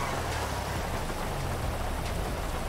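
Steady rainfall in GTA 5, a dense even hiss of drops on surfaces that runs the whole time at moderate level with no talk over it.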